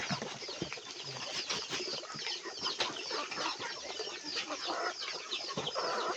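Chickens cluck in scattered, soft calls around their coop in the background. The sound is faint and unsteady, with rustling and small noises mixed in.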